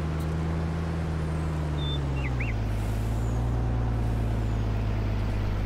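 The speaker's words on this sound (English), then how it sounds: "So now it just sounds like a normal truck." A steady, low truck engine in the video game Farming Simulator 19 drones continuously, its pitch dropping slightly partway through, with faint high chirps above the rumble.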